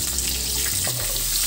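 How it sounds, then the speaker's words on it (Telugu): Sliced onions and curry leaves frying in a pan for a drumstick-leaf stir-fry, a dense, hissing sizzle that stays steady and loud throughout, with no talking. "ఈ మొత్తం బాగా ఫ్రై చేసుకోవాలి"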